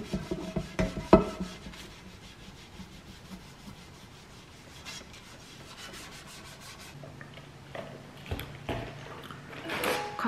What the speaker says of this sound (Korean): 연마 작업을 이렇게 해야 됩니다.